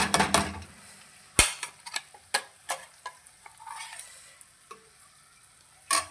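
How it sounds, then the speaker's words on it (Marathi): Masala with byadgi chili powder stirred in a pan for a dhaba-style garlic methi curry: a spoon scrapes and taps the pan in sharp, irregular strokes over a faint, low sizzle, close by and without talk. "थोडी बेडगी मिरची पावडर, परत याला एकदा परतून घ्यायचं."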